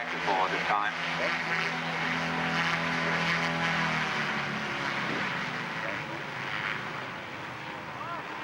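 Propeller aircraft taking off at an air show, a loud sustained engine drone that fades slightly as it pulls away, with wind noise and faint background voices.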